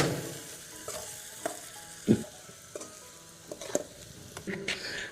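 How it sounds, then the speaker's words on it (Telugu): Okra frying in a pan for a Nellore-style fish and tamarind stew, a steady low sizzle with clattering stirs and a sharper scrape near the middle, close and fairly quiet. "బెండకాయ వేసి వేపుకుందాం కొంచెం"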